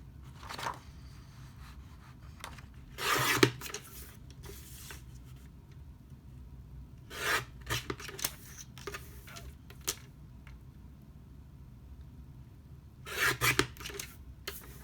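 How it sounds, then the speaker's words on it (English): A Tonic Studios guillotine trimmer slices card elements in a few short, separate bursts of scraping and rasping, with quiet pauses between the cuts. "So I'm just going to take my Tonic Studios trusty old guillotine."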